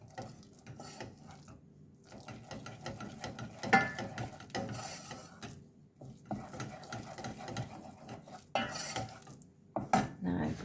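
Milk being stirred into cheese sauce in a pan for cauliflower and macaroni cheese, with steady scraping and clinking of a utensil against the pan in uneven bursts, close and moderately loud, with brief pauses.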